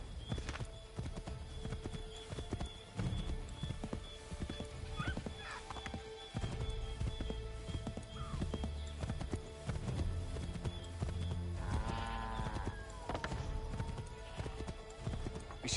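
Horse hooves clip-clop at a gallop in Assassin's Creed 3 game audio, a steady drumming rhythm with a whinny or two over busy ambient game sound, continuous throughout.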